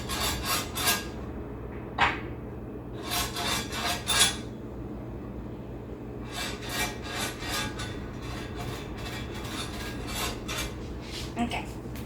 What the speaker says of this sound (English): we have to lightly glaze this with oil so that it cooks better